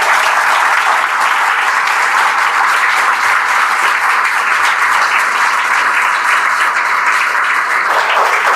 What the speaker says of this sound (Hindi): एक बार जोरदार तालियों स्वागत कर दें